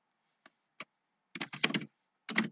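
Typing on a computer keyboard, close and quiet: two isolated keystrokes, then a quick burst of several clicks and a final short cluster.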